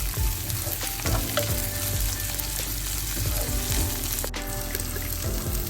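Green chillies and chopped garlic fry in a pan, making a loud, steady sizzle that runs throughout with stirring scrapes layered on top, no talking.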